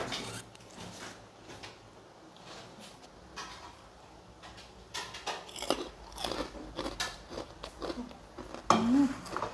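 Close, crunchy bites and chewing of a spicy Thai papaya salad with crab, fermented fish sauce and pork sausage, irregular and moderately loud, with a brief voice sound near the end.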